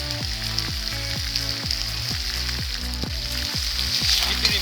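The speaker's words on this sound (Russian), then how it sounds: "теперь добавляем лук и жарим его до золотистого оттенка" Onion frying in a kazan with chicken for chakhokhbili, a constant close sizzle with rhythmic low scraping strokes as the pan contents are stirred, no talking.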